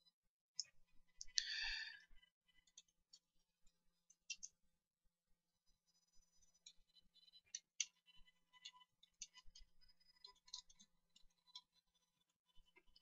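Quiet, sparse computer mouse clicks while working on a chart in a database program, single taps scattered over a near-silent background with one short rustle early on.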